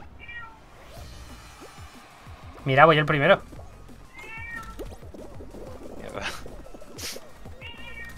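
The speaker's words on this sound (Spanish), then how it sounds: "Por ahí hay un gato muriéndose." Short, loud meows from a cat, one strained burst standing out among fainter cries, sounding under a man's speech and game noise from Fall Guys.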